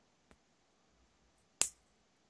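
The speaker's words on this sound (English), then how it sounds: "I think I've been cutting too many guitar strings with these pliers." Two crisp snips of guitar strings being cut with pliers on a Les Paul-style LP100 during a tear-down, a faint click followed by a louder sharp snap over a quiet background.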